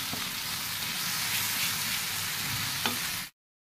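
Tomato and Kashmiri red chili powder frying in a pan for a sour fish curry, a steady close sizzle with a faint stirring tap near the end before it cuts off.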